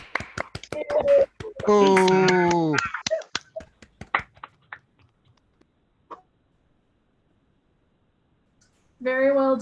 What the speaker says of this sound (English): a final round of applause for the sound group and also just for everyone